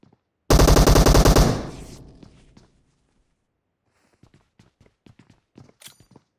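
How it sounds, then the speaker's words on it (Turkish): Rapid automatic gunfire in the PUBG Mobile battle royale game, a loud close burst of about a second that trails off, followed by quieter scattered footsteps and small clicks. "nereden nereye sıkıyorsun be kankam?"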